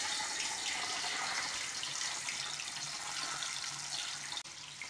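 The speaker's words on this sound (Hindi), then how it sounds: "अब मैं कर लेती हूँ पनीर को फ्राई।" Paneer frying in hot mustard oil gives a loud, steady sizzling hiss that runs almost the whole time, with a brief break near the end. No one talks.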